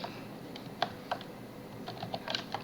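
Someone types Python code on a computer keyboard, a quiet, close run of irregular key taps with brief pauses and small bursts of quicker strokes.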